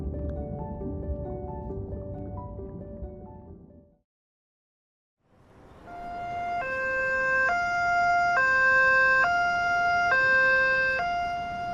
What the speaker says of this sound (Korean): 사이렌 소리가 들렸다.